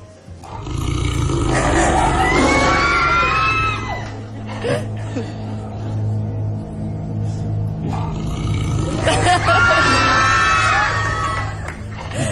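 A studio audience on a Spanish television show shrieks and screams loudly in two bursts, with a low rumbling roar underneath and a quieter stretch between.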